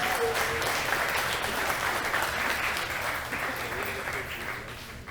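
An audience at a game jam showcase applauds as a team comes on stage, a thick continuous wash of clapping with some crowd voices mixed in, tapering slightly toward the end.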